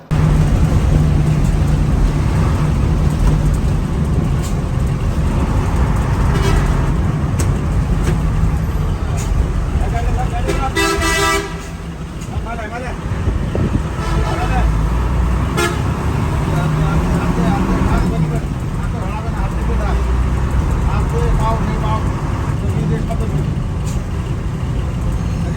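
A Hino 1J bus drives on a road from Dhaka to Kurigram, with steady loud engine and road noise throughout, a few horn toots and a brief dip near the middle, and voices heard faintly in the background.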